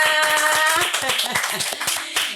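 Hand clapping in a podcast studio: a short run of distinct, fairly close claps with an uneven rhythm, with a brief sustained tone at the start.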